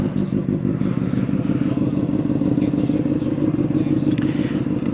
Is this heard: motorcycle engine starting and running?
yes